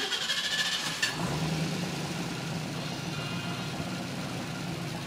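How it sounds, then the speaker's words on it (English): A car engine idles steadily while running with a motor oil additive circulating through fresh oil, producing a constant low rumble with no revving or breaks. "Now, while this runs, we're letting the oil go through the engine along with the product MOA"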